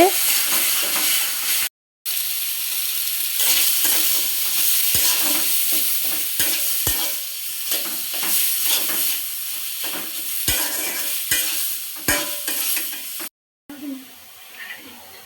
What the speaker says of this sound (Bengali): এখন একটু পর পর নেড়ে দিয়ে ভালো করে মিশিয়ে নিতে হবে।